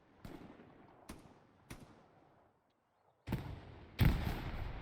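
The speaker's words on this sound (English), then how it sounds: "Zach McCracken is still cracking away there with the MG." Machine gun fire rattles in a multiplayer online shooter match: a few separated shots, then heavier sustained bursts near the end, loud and close, with no talk.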